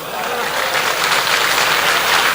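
Steady, loud audience applause at a Hindi poetry recital following a recited couplet, a dense wash of clapping sustained evenly for a couple of seconds with no voices on top.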